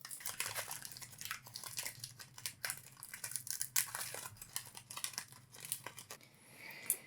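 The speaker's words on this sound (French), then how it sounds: "tu pourras ouvrir un booster où les cartes ne sont pas abîmées et l'ouvrir dans le bon ordre" Foil wrapper of a Pokémon Scarlet & Violet booster pack crinkles and tears as it is opened, a steady close rustle with sharp crackles throughout.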